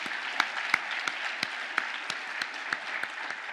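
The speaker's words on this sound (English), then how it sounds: "everyone in this room deserves a hearty round of applause for your support" Audience applause fills a room at a port event, a steady wash of clapping with a few sharper individual claps standing out at regular moments.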